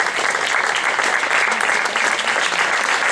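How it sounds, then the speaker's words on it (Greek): Audience applause at a municipal music school concert, a loud, dense wash of clapping from a packed hall that runs steadily for a few seconds. "Ένα μεγάλο χειροκρότημα"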